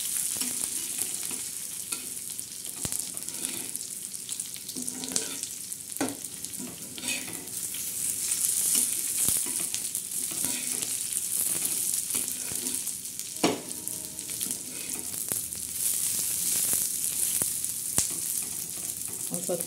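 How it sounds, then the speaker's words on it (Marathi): Black spice masala with chillies roasting in a pan for an eel curry, a steady close sizzle broken by repeated scraping stirs, with no talking. "हे बघा, खमंग असा खरपूस असा मसाला भाजायचा।"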